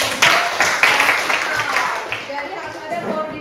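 Students in a classroom clap together after being prompted, a steady patter of hands with voices mixed in underneath.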